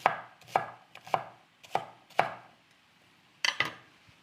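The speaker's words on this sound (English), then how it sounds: "Chop a little bit more." A knife chops apples and pears on a cutting board for an apple crumble, giving about six crisp, evenly spaced thuds followed by a quick double chop, close and clear with no talk.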